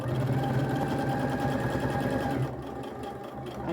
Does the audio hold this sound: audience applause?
no